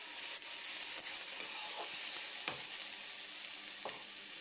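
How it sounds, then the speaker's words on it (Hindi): Tomatoes frying in a pan for egg masala give a steady close sizzle, with a few soft stirring scrapes breaking through now and then, no voices. "इसे चलाते रहेंगे। टमाटर को थोड़े से पकने देते हैं,"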